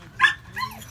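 A dog at a dog park gives two short, close barks, the second trailing into a higher whine, over faint background murmur.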